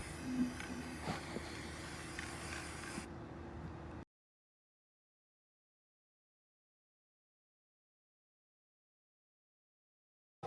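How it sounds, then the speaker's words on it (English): White flat Rust-Oleum enamel sprayed from an aerosol can over a thrifted bottle outdoors, a continuous hiss lasting about three seconds, followed by a short tail and then silence. "using Rust-Oleum white flat protective enamel, I sprayed the entire thing"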